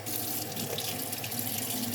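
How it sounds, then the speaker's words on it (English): Water runs from a tap into a container in a steady, close stream, with no talking. "I'm gonna add the rest of the way of water in there"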